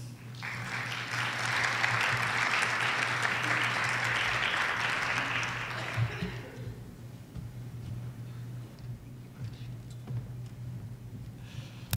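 Audience applause welcoming two speakers at a farm safety talk, a steady wash of clapping for about six seconds that then fades into quiet room noise over a constant low electrical hum.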